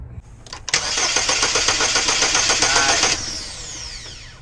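Starter cranks a 2006 Chevy Cobalt's 2.2L Ecotec four-cylinder after a new starter is installed, a steady rapid rhythmic whir for about two and a half seconds that stops without the engine catching, loud and close.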